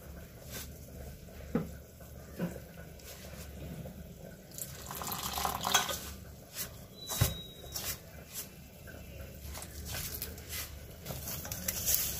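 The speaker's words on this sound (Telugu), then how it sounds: "ఇలా నీళ్ళు పోసుకుంటూ చక్కగా మెత్తగా ఆ బొంబాయి రవ్వ కలిపాం కదా" Water is poured in faint, patchy trickles into a Bombay rava semolina mixture for gorumitti, with soft splashes and mixing sounds close by and no talking.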